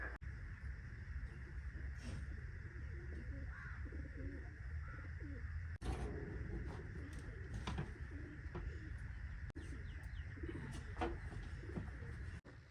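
Pigeons coo softly in a birds room under renovation, low rounded calls repeating at a moderate distance over a steady background hum, with a few sharp knocks and scrapes in between.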